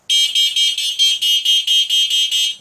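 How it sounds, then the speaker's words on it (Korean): Electric scooter horn pressed in a quick series of about eleven loud, shrill electronic beeps, evenly spaced and close, with no other sound between them. "빵빵이 한번 눌러보겠습니다"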